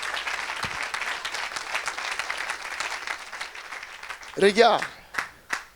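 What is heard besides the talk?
congregation clapping hands for the Lord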